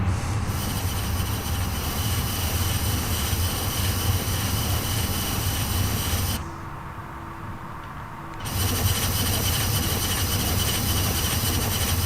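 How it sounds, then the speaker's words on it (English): Airbus A320 engine spooling up in Microsoft Flight Simulator 2020 during a Zurich to Geneva flight, a loud, constant whine and roar that briefly drops to a quieter hum partway through before returning at full strength. "Engine number 2 now coming in."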